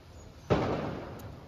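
A single Diwali firecracker bursts at a home celebration, one sharp crack followed by a short fading rumble, fairly near, with no voices.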